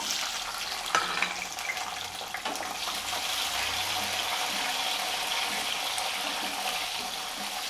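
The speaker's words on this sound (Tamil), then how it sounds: "பச்சை மிளகா பத்து பல் பூண்டு வச்சிரு போட்டிருக்கேங்க நல்லா வதங்கட்டும்" Green chillies and about ten garlic cloves sauté in hot oil for a lake-fish curry, giving a steady, even sizzle with a few faint clicks from the pan. No one talks.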